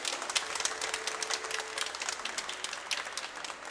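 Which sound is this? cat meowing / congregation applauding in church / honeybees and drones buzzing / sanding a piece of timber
congregation applauding in church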